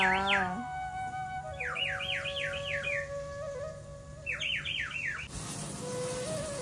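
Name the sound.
bird calling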